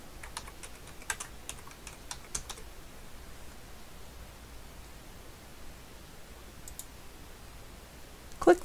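A computer keyboard is typed on to enter a query expression in ArcGIS Pro, producing a short cluster of soft key clicks, then quiet hiss with a few later taps.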